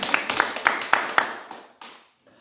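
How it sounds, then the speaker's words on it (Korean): A church congregation during a Sunday worship service claps briefly, a quick series of a few sharp, close claps that thin out and stop within about two seconds. "박수 한번 해드립니다."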